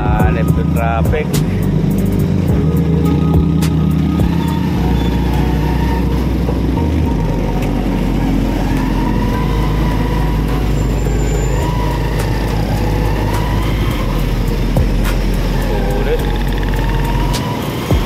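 Morning road traffic with cars and trucks idling and rolling past up close, a steady loud engine rumble with an air-brake hiss, while someone talks intermittently over it.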